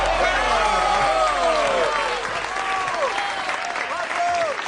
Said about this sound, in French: on applaudit encore bien fort la sublime, la merveilleuse Florence